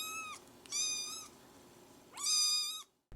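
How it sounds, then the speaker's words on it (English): A kitten meows over a phone line: three drawn-out, thin, high cries with a tinny, narrowband quality, separated by short gaps, faint with a soft hiss behind them. "That sounded exactly like a cat."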